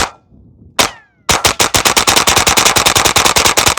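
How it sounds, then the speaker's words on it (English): A suppressed Ruger 10/22 rifle firing hollow point surplus ammunition, two separate shots followed by a fast, even string of about twenty rapid cracks, loud and close. "I'm going to use my Ruger 1022 with a suppressor with hollow point surplus ammunition"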